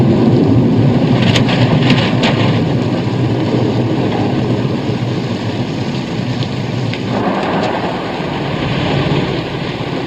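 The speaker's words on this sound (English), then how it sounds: "Kind of nice driving in this rain." Heavy steady rain with rolling thunder heard from inside a moving car, a dense continuous wash of noise with no talking.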